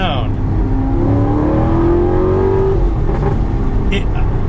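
An Alfa Romeo 8C Competizione V8 revs while driving, its engine note climbing and sweeping through a rising pitch before easing off, loud and close, with a short whir near the end.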